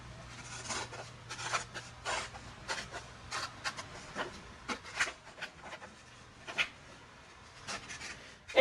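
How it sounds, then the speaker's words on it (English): Scissors snipping through folded paper along the creases to cut out quarter-size fraction pieces, a series of short crisp rasping cuts in an uneven rhythm, quiet and close, with no talking. "I'm going to go ahead and cut these out"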